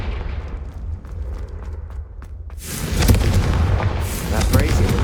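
A Confringo fire spell explodes in the video game Hogwarts Legacy, a loud sudden boom with a crackling, rumbling tail that follows a quieter stretch of faint clicks; a voice speaks nearby.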